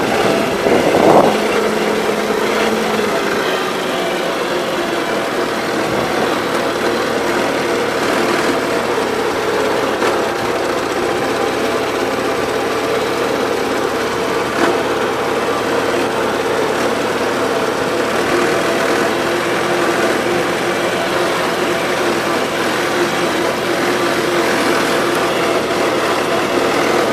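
A 1977 Gravely GMT 900 tractor engine runs rough with full choke on a suspect carburetor, a steady close, loud idle-like drone with slight unevenness throughout, no talk over it.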